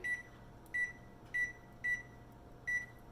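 An oven's control panel gives five short, high electronic beeps at an even pace while being set to 500 degrees, quiet against a faint room hum and with no one speaking.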